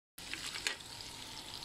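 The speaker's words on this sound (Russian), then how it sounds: "жарится моя грудиночка" Cubed chicken breast fries in a pan with a steady, soft, hissing sizzle that runs unbroken and close by, with no talking.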